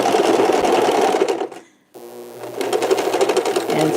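Sewing machine stitching a fabric face mask, a loud close steady whir of the running needle that stops briefly for the backstitch, then starts again and runs on.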